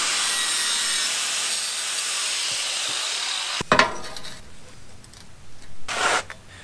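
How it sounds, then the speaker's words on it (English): A metal tube is cut back by hand to close the gap in a 45 degree notch, with a steady, close rasping saw stroke for several seconds, then a clatter and a second short burst of cutting. "I'm just gonna trim this back a little bit and then hopefully that'll close that gap up"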